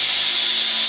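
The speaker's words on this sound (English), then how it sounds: "Go ahead and grind off some of this stuff." A grinder works loud and close on welded steel during rust repair of a 1960–1966 car front fender, a continuous high hissing whine with no pauses.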